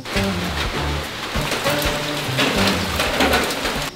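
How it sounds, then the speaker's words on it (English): Steady rain falls in Mindanao, a dense continuous patter of drops on surfaces, close and fairly loud throughout. "since it started raining earlier this morning"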